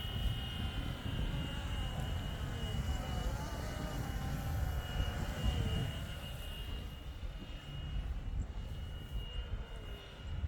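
A small, light radio-controlled Flywing Bell 206 helicopter's four-blade rotor whizzes steadily overhead with a high, buzzing whine over low wind rumble, holding constant before easing slightly toward the end.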